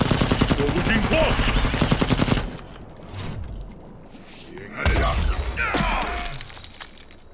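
Soldiers fire volleys of automatic gunfire in a Mortal Kombat X story scene: loud, sustained rattling bursts, a quieter lull, then another heavy burst of shots.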